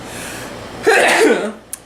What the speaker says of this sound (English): I also have a sneeze.